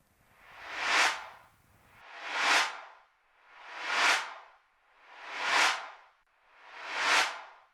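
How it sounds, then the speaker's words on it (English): Five reversed-reverb swells on snare and claps, each rising smoothly to a sharp peak and cutting off, evenly spaced about every one and a half seconds, clean and alone. "If we reverse the reverb, it will sound like this."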